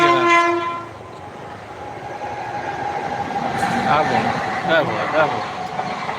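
A train horn blasts briefly, then a train rumbles and clatters past nearby, its wheels and carriages rolling loudly for several seconds.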